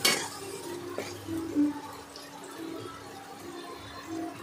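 Fried bhetki fish with onion paste being stirred in a pan: soft scraping and utensil clinks over a faint sizzle and a low steady hum, starting with a louder clatter.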